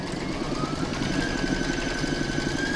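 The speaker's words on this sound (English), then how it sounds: "I'm now going to pop that back into my machine and we're going to stitch round number six" Embroidery machine stitching a flower-shaped coaster, a steady rapid mechanical chatter with a constant droning hum, close and continuous throughout.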